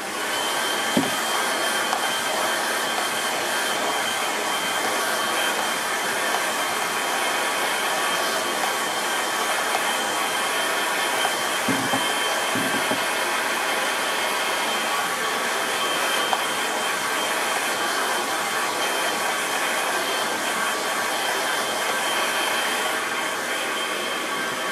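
A hair dryer blows steadily over a wet watercolour landscape painting, a loud continuous whooshing roar that holds level for the whole stretch with only a couple of faint low knocks beneath it.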